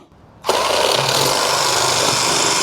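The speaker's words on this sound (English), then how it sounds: "We've drilled a new hole with our smaller masonry bit." A hammer drill fitted with a smaller masonry bit bores a hole into masonry while building an outdoor kitchen, kicking in abruptly after a quiet moment and then holding a loud, steady, broadband grinding roar up close.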